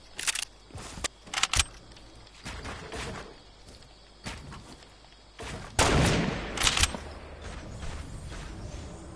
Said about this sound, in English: let's use our shotties. Our shotties and our snipers.